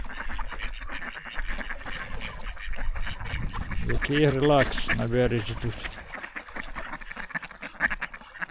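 Ducks bathing on a river bank, with a burst of loud nasal quacking in the middle, heard close over steady background noise and a person talking.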